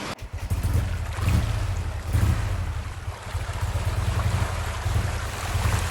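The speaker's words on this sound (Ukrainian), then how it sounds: "лодки курсують по колу у невеличкому" Boats circle on a small river near the sea in Hoi An, Vietnam, heard as a continuous low motor rumble with wind and water noise, steady and moderately loud with no talking.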